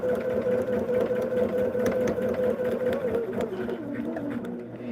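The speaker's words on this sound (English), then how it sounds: "just run a line of stitching between the solid line and the broken line" A sewing machine runs a steady line of stitching through a quilt block, a continuous close mechanical whir with a fluttering hum that eases slightly toward the end.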